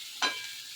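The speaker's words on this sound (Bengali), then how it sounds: "ভেন্ডিটা ভাজা হচ্ছে।" Okra frying in a pan makes a brief hiss of sizzling, with one sharper burst of crackle near the start and no voice over it.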